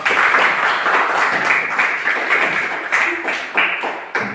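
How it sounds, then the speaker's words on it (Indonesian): A classroom full of students applauding a presenting group, dense, loud clapping that holds steady and then thins into a few scattered final claps, with no talk over it. "kita beri aplaus kepada teman kita atau kelompok 3"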